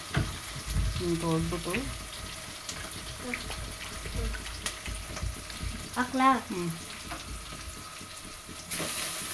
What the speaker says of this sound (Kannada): ಎರಡು ಈರುಳ್ಳಿ ಕಟ್ ಮಾಡಿ ಇಟ್ಕೊಂಡಿದ್ದೆ ಅದನ್ನು ಹಾಕ್ಕೊಂಡು ಫ್ರೈ ಮಾಡ್ಕೊತಾ ಇದ್ದೀನಿ